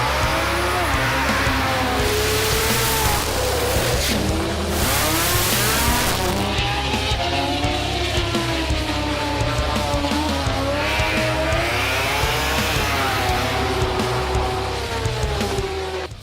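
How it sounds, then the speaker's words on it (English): Sport compact cars drag racing at a Melbourne raceway during the 2018 Jamboree show event: a continuous, loud roar of revving engines with squealing tires and wavering engine pitch, close and sustained throughout. "the Sport Compact drag racing and show spectacular went off"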